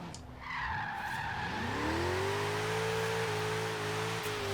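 A Jeep in Forza Horizon 3, fitted with low-grip tyres for drifting, spins its wheels and slides with a loud, sustained tyre squeal over a rising engine note that settles into a steady drone.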